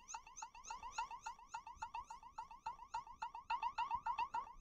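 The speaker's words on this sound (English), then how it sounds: "Turn that siren off so I don't bother you guys." A Wyze Spotlight security alarm siren sounds in a fast, repeating warbling pattern, with rising electronic chirps pulsing steadily at moderate volume and no talk.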